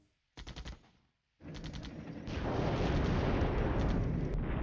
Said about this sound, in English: our artillery fire is ineffective